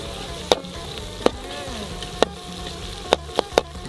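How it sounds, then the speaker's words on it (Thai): Crispy pork with holy basil stir-fried in a pan, heard as a loud, continuous close sizzle broken by several sharp clacks of a utensil against the pan. "ผัดให้เขา กรอบสักหน่อยนะคะทุกคน"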